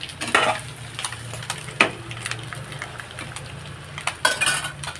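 A spatula stirs roasted vegetables and dried prawns around a hot pan, giving soft scraping and sizzling with a few sharper clinks and scrapes that stand out near the start, middle and end, over a low steady hum and with nobody talking.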